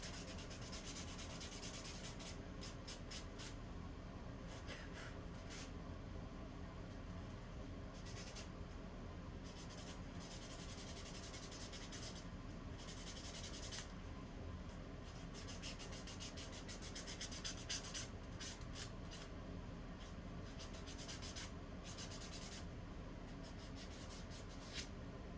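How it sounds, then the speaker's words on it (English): Gel nails are sanded with a file in long, steady back-and-forth rubbing strokes that continue without pause, close up and faint. "while I sand the rest of this stuff away"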